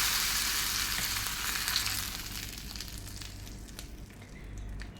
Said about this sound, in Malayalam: കടുക് തേങ്ങ കറിവേപ്പില ഉണക്കമുളക് ഇതൊക്കെ ഒന്ന് ഇതിൽ വറുത്തിട്ട് വെക്കും